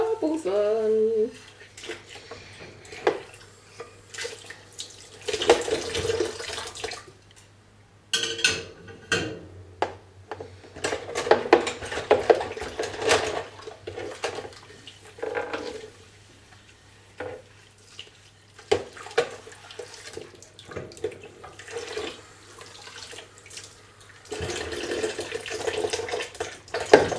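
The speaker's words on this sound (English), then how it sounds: "I'm going to wash the tuna" Tap water runs over raw tuna in a sink in uneven gushes and splashes, with faint clatter, close by and fairly steady across the whole stretch, no talk.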